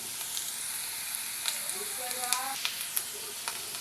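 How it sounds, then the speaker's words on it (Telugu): Ginger garlic paste fries in hot ghee in a pan with a steady, close sizzle and crackle. Stirring clicks and scrapes come through, and a faint voice is briefly audible under it. "ఇప్పుడు దీనిలో అల్లం వెల్లుల్లి పేస్ట్ వేసుకుందాం"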